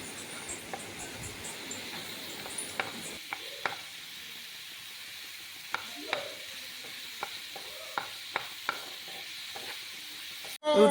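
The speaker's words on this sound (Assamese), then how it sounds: "অলপমান ভাজি লৈ" A spiced filling with turmeric, oregano, soy sauce and tomato sauce fries quietly in a pan, giving a soft steady sizzle broken by scattered spatula clicks and scrapes.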